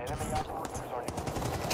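Repeated pistol shots in Call of Duty DMZ, a fairly rapid string of sharp cracks across the whole stretch, with talk and other game noise underneath.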